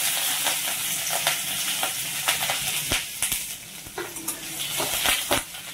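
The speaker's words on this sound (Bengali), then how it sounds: "আদাটা সামান্য একটু ভাজা ভাজা করে নেব।" Grated ginger and two green chillies sizzle in hot oil with bay leaves in a pan for a Bengali mixed vegetable dish, a steady close frying hiss broken by repeated scrapes and clicks of stirring.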